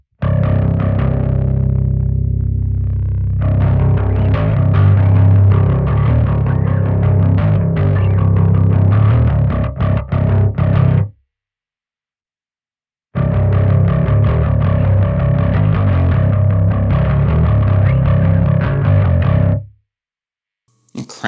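Bass guitar played through a Caline overdrive pedal with gain added, loud gritty distorted notes in two long phrases separated by a short silence, close and without talk.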